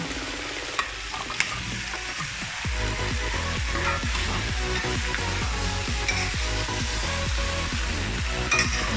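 Squash being stirred into pinakbet with meat in a frying pan, a steady sizzle under repeated scraping stir strokes, close and continuous with no talking.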